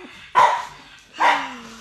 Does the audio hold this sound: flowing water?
no